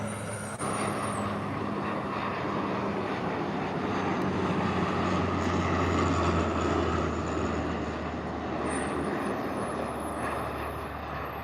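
An airliner touches down on the runway at Calgary airport: a steady, broad jet roar holds at moderate distance with no break, with no voices over it.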